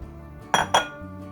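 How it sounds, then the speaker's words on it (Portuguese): Two quick clinking knocks as tomatoes go into a metal cooking pot, close by, with a brief pause between them and quiet kitchen background. "Primeiro eu vou colocar o tomate todo aqui dentro da panela."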